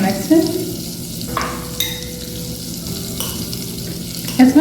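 Onions being stirred in olive oil in a pan for a tomato sauce, with a steady sizzle and scraping, plus a few sharp utensil knocks near the start and end.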